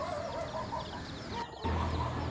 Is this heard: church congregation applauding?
no